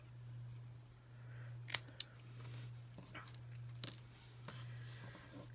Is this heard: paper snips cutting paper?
yes